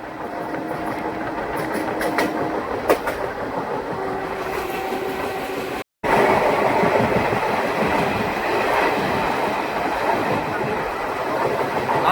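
The Tinpahar–Rajmahal four-coach passenger train runs at about 40 km/h, heard from on board as a loud, continuous rumble with rhythmic clatter and brief squeals, a short dropout midway.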